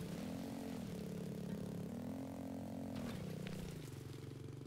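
A motorbike-like engine in the 2D game Laika Aged through Blood hums steadily and rises and falls in pitch several times as it accelerates, with a rougher burst toward the end and no voices.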